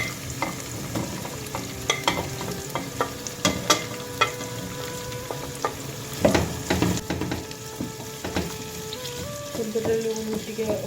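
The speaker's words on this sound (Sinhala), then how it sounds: "හොඳට ලුණු ටික ඔක්කොම බැදෙනකම් මම අඩි ගින්දරේ ටිකක් කලවම් කරනවා." Rice frying in a pan with chili and salt over low heat, a spoon stirring and scraping steadily through a constant close sizzle, with knocks against the pan throughout.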